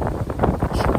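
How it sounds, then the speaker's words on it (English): Steady gusting wind buffets the microphone on a breezy day along Poipu Drive in Hawaii Kai, Oahu, a continuous low rumbling roar that swells and dips without a break. "it is a little bit of a windy day today"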